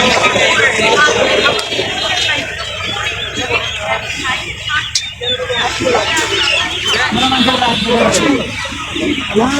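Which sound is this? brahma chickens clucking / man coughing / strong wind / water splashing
brahma chickens clucking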